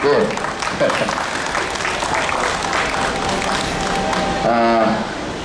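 An audience claps at an outdoor press conference on student shuttle-bus safety, a dense, loud burst of applause that holds steady, with a voice and some tonal sounds rising briefly near the end.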